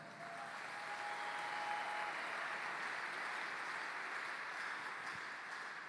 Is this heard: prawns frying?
no